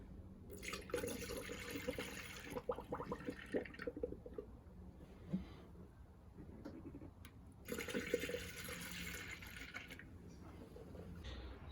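Coolant pouring and gurgling into the radiator of a 2000 Toyota Sienna, with air bubbles surging up that swell, ease off, then swell again, fairly quiet and close.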